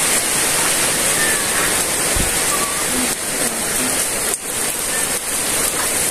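Heavy rain pours steadily over an onion field in a dense, loud, unbroken hiss close by, with a brief low thump partway through and no voices.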